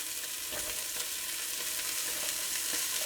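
Carrots, onions and celery sizzle and fry in a pan that just browned beef shin, a steady close crackle with light stirring scrapes and no voices.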